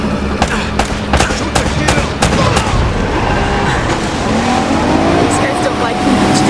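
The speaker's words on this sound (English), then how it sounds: "Less talking, more shooting." Gunfire in the PS3 game Uncharted: Drake's Fortune, with rapid sharp shots in bursts over engine and vehicle noise during a chase, loud and dense, with character voices mixed in.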